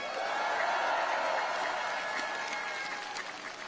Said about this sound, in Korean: 잘하라고 박수 한번 부탁드립니다